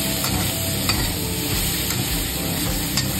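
Diced potato and radish curry sautés in a pan with cumin and coriander powder, steady sizzling under continuous stirring and soft scraping, close and even throughout.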